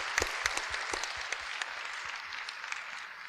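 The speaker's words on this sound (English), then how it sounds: "let's have a round of applause for these great panelists." Audience applause for a panel of speakers at a policy forum, steady dense clapping from a moderate-sized crowd that holds evenly for a few seconds without talk.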